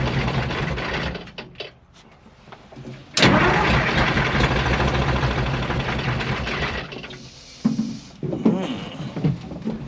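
A 1975 International Loadstar 1850 truck engine cranks and catches, then settles into a loud, rough idle with small surges near the end; a voice speaks briefly underneath.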